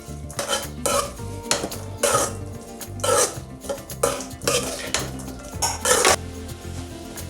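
A spoon scrapes and clanks against the pan while stirring a banana stem stir fry, with repeated metallic knocks every second or so over a low sizzle, close and without talk.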